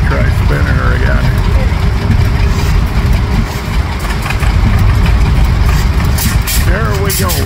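An old Rumely Oil Pull tractor engine cranks and runs, producing a loud, continuous low rumble with a pulsing beat throughout, while a person talks over it.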